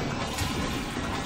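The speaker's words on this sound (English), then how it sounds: "It's a toilet flushing." Toilet-flush hit effect from the video game Deltarune Corrupted, a dense watery gush that stays loud and unbroken for its short length with no talk over it.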